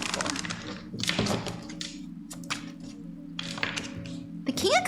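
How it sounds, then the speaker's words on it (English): Tarot cards shuffled at a shaky desk: a series of close clattering card riffles and thumps in uneven bursts over a low steady hum, with a voice briefly rising near the end. "Okay, one more shuffle."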